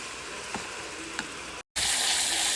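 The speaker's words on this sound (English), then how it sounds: "Rinse your beans until all that white foamy stuff is gone and all that sodium's rinsed off." Tap water rinsing canned beans: a steady hissing stream with a couple of soft knocks, a brief cutoff, then a louder rushing flow resuming.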